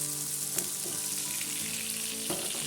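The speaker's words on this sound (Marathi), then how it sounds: "इथं पापलेट फ्राय झालेले आहेत" Pomfret fish fries in a pan with a steady, close oil sizzle throughout, and a few brief clinks and stirring sounds break through now and then.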